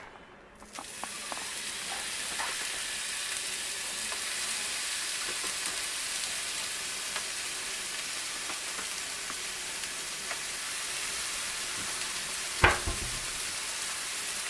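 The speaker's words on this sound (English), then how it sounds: "Hear that sizzle." Loud, steady sizzling of a burger patty frying in a hot pan, beginning suddenly and hissing on without pause, with a brief scrape near the end.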